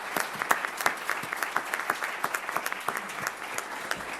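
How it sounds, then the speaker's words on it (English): A crowd at a high school graduation ceremony claps steadily for several seconds, many hands blending into a continuous patter with sharp individual claps standing out. "Let's give ourselves a round of applause."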